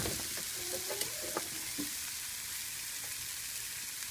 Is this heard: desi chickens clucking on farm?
no